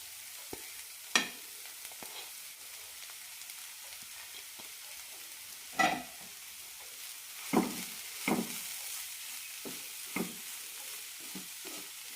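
Carrots and cabbage sauté in a pan with a soft, constant sizzle, broken by a few scattered scraping knocks from stirring, close but fairly quiet.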